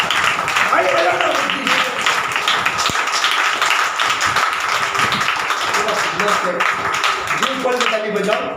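A church congregation claps at a prayer service, a dense sustained patter of many hands mixed with voices and room noise throughout.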